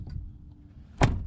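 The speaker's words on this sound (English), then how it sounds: "The door latch" A truck cab door latch clicks shut during a CDL Class A pre-trip inspection, one sharp, close thunk near the end after a quiet stretch.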